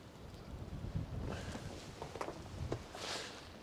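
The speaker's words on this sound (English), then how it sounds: "you probably can't tell on camera, but it's really windy again" Strong wind buffets the microphone on a Norwegian shore during halibut fishing, a loud, steady roaring rush with gusty surges and no voices.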